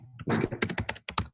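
Quick bursts of keystrokes on a computer keyboard, close and fairly quiet, with a flurry of taps followed by a few separate clicks and short pauses.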